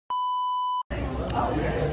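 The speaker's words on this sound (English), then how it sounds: "the alarm right on time" An alarm gives one steady, loud electronic beep lasting under a second, then cuts to a busy background of crowd chatter and ambient noise.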